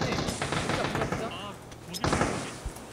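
Gunfire in a video game fight, with rapid shots and booms blending into a dense roar, heard under someone talking.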